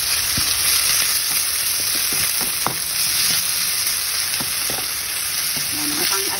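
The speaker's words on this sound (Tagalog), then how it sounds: "Haluin natin." Pork adobo with oyster sauce being stirred in a pan: a loud, continuous sizzle with irregular scraping and clattering from the stirring, no voices.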